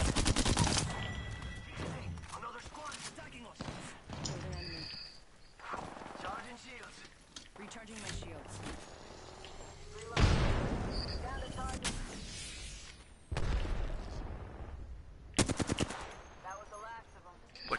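Repeated automatic gunfire in an online shooter on PS4, loud bursts and rattling volleys spread across the clip with short gaps, mixed with game sound effects and players talking over it.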